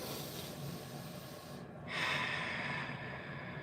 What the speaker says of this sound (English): Get our zen back in through the nose